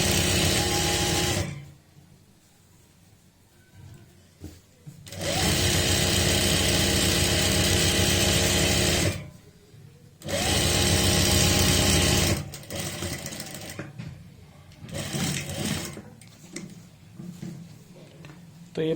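A sewing machine stitches a folded fabric belt onto a saree in long loud bursts, with pauses between runs and some quieter handling noise toward the end.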